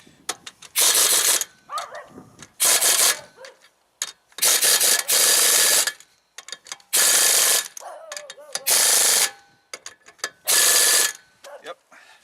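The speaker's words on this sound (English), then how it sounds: "Impact wrench with the torque set at 85 foot-pounds," Impact wrench with torque set at 85 foot-pounds driving axle nuts during an axle change, loud repeated hammering bursts of about a second each, roughly seven in a row with short pauses between.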